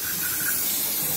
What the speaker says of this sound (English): All right, so we're just gonna spray this off so it's easier to deal with